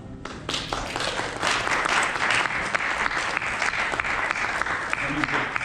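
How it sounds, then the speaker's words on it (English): An audience applauds at a group piano presentation. Dense, steady clapping from many hands starts almost at once and stays strong and even for several seconds. "let's give a round of applause for Classical Showdown 1"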